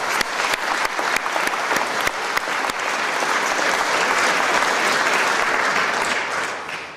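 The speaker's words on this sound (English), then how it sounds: "Let's give a round of applause for the finalists." Audience at an awards event applauds the finalists in a loud, sustained round of clapping that starts with sharp individual claps, swells to a dense wash, then tapers at the end.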